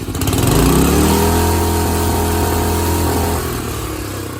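An old small engine on a hand-controlled shifter go-kart runs loud and close, revving up sharply then holding a steady buzzing idle-to-mid drone that eases slightly near the end.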